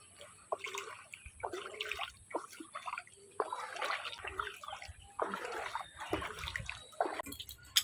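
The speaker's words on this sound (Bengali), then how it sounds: "যেতে যেতে জলে জল পাড়িয়ে পাড়িয়ে যেতে গেলে আরও লেট হয়ে যাবে" Footsteps splash through water on a flooded road, a string of uneven wet slaps and sloshes close by, with quiet drips between the steps.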